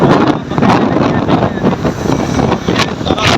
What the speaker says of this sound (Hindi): बड़ी स्पीड में मोटरसाइकिल चला रहा है